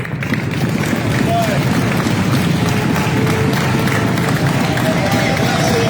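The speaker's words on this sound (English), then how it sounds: "So let's give ourselves a round of applause, man." A summit audience gives itself a round of applause, loud sustained clapping blended with crowd hubbub and scattered cheers, continuous and close, with voices mixed in.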